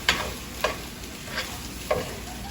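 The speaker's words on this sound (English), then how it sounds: "we're going to give this a good stir" Fried rice sizzles steadily in a pan with a soft continuous hiss. Four short scraping strokes of stirring come at irregular intervals, close and moderately loud.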